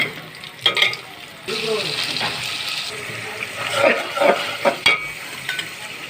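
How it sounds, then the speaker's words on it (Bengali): Ginger and garlic hit a hot pan and fry with an intermittent sizzle, broken by stirring scrapes and splashy, watery sounds, with a few sharp clinks near the end. "এই যে আদা রসুন দিলাম"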